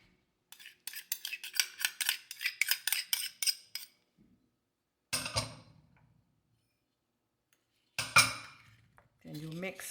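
Utensil scraping and clinking against a bowl while hoisin, ketchup and vinegar sauce is stirred together, a quick run of close rhythmic clinks followed by a few shorter bursts, with a voice speaking briefly near the end.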